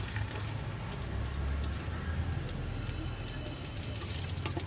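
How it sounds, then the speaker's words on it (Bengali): Bay leaves, whole garam masala and whole dried chillies sizzle in hot oil as a tempering for khichuri, giving a steady, soft, even crackle with scattered tiny pops and a faint low hum beneath. "সেই লেগে ফোড়নে দিচ্ছি তেজপাতা, গোটা গরম মশলা, গোটা লঙ্কা,"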